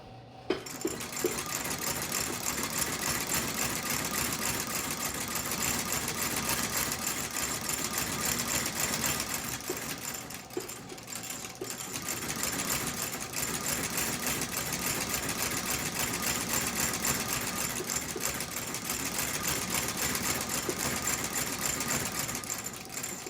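A sewing machine stitches a leather dress boot in a steady, rapid mechanical whir that runs nearly nonstop at close range, with one short slowdown midway and no talking.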